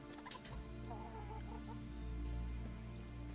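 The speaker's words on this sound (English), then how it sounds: "Hello, chickens." Chickens in Kingdom Come: Deliverance give a few soft clucks over a low steady ambient drone, faint and close, with no voices.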